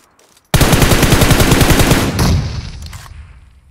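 Automatic gunfire in a mobile battle royale video game: one loud, rapid sustained burst lasting about a second and a half, then a fading echo with a few scattered later shots.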